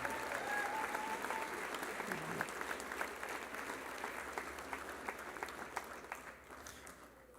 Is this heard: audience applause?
yes